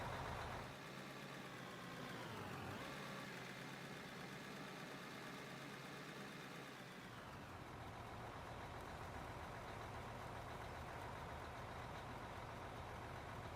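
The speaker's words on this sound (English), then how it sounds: "Did they change the truck sounds at all?" A haul truck engine idles at a mine site in the mining game Out of Ore, a steady, close, even drone. Its tone dips and shifts briefly a couple of times before settling back into a constant idle.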